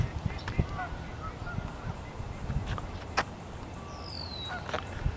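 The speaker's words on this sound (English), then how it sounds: "These are mostly Canadian geese." Canada geese in a park honk repeatedly from a short distance over a steady outdoor background rumble, with a few sharper calls standing out.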